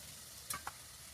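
Tomato and capsicum frying with browned onion in a pan, a faint steady sizzle with two quick stirring clicks from a utensil; no talking.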